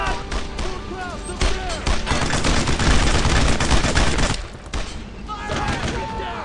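Heavy suppressing gunfire in the World War II shooter Brothers in Arms, a dense continuous barrage of rifle and machine-gun shots with a brief dip before it resumes, with voices calling out over the battle.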